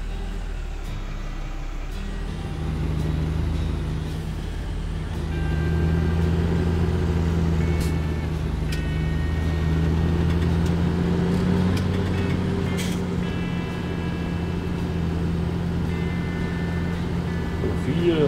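Farm vehicle in a video game creeping along slowly, a steady low engine drone with rumbling tonal hum throughout, mixed with faint clicks and someone talking over it.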